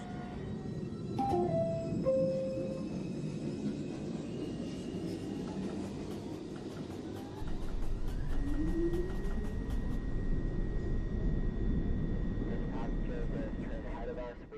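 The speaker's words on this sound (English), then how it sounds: "Local train approaching the station." An automated NYC subway R62 local 1 train rolling along the track, a steady rumble with squealing wheel tones and a rising pitch as the motors pick up speed, mixed with an automated announcement.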